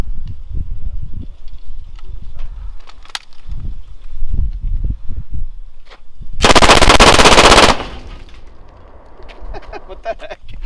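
Sig M17 9mm pistol firing full auto: one loud, continuous burst lasting over a second, preceded by footsteps and shuffling on the firing line and followed by quieter handling noise.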